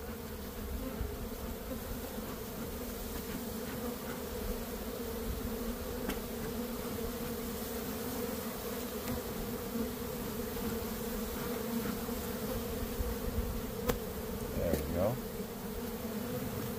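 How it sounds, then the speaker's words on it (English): Honeybees buzz in an opened hive during a rescue from collapsed comb, a steady, fairly quiet hum that holds constant throughout without pause. "Bees are getting a little buzzy."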